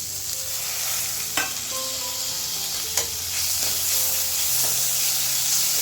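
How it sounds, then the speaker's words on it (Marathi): Chopped tomatoes tipped into sautéing onions in a pan for kandyacha zunka, with a continuous close sizzle and hiss broken by a few sharp clacks and scrapes of a spatula. "आता याच्यात टोमॅटो घालू"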